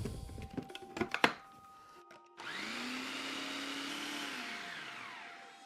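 Leftover cheese is blended into a paste with salt. A few clattering knocks and thuds come first, then the blender motor whirs up to a loud, steady high whine, holds for a couple of seconds and spins down.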